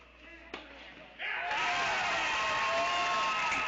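Crowd at a college tennis match in East Lansing breaks into loud cheering and applause after a brief thump, the roar swelling suddenly and holding steady to the end.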